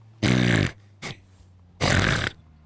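A voice imitates snoring with two long, loud, rasping snorts separated by a short grunt, close and alone.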